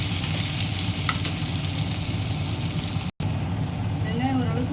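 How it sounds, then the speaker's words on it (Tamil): Sliced onion with a pinch of salt sizzles steadily in a hot pan, a dense, even frying hiss over a low rumble that runs almost without a break, with a faint voice briefly near the end. "வெங்காயம் ஓரளவுக்கு வதங்கிடுச்சு"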